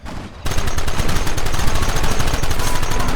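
Heavy automatic gunfire in the Western video game Red Dead Redemption breaks out after a short lead-in and becomes a loud, dense, rapid rattle of shots that continues without letup.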